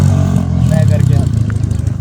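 Dirt bike engine running and pulling away, ridden without gear, a steady mid-pitched motor drone with rising revs, close and loud throughout, with people talking over it.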